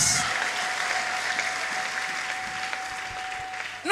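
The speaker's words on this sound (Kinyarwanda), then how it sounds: "Abantu babyumvishe tukomere Imana amashyi" A church congregation claps in steady, fairly loud applause that fades slightly over several seconds.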